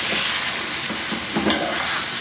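Onion mutton with tomatoes and green chillies being stirred together in a hot pan: a steady close sizzle broken by a few scraping spoon strokes, no talking.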